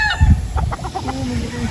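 A pedigree gamecock clucks close by in a short run of soft, rapid notes, loud against steady background noise.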